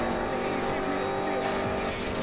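McLaren race car in Need for Speed Most Wanted, engine roaring close and loud with tires squealing in short bursts during a race.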